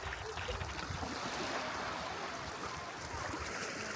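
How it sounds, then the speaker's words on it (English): Lake Superior waves rolling in against the outgoing current of a river mouth, a continuous broad rush of churning water, close and steady with no voices. "You got the tide rolling in, fighting in, and then you got the push of the river going out."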